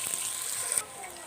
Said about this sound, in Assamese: এতিয়া মই ইয়াত দি দিছো পিয়াজখিনি আৰু কেঁচা জলকীয়াখিনি এইখিনি ভালকৈ লৰাই থাকিম